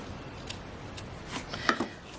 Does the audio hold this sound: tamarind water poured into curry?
no